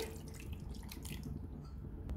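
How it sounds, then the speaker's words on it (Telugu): Tamarind juice is poured into a pot of raw fish and mango curry, a soft, quiet trickle and splash with faint dripping and no talking. "చింతపండు రసం వేసుకోవాలి."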